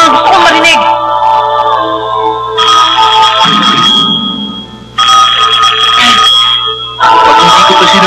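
A telephone at a school student council office rings in loud repeated electronic bursts, with brief gaps between rings, over background voices and music.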